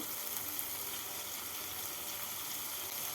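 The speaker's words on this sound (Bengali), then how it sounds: "পেঁয়াজ বাটাটাকে দিয়ে একটু নাড়াচাড়া করে নেব" Onion paste and cumin powder fry and sizzle steadily in a pan while being stirred for mutton kofta curry, a dense continuous hiss with no voices.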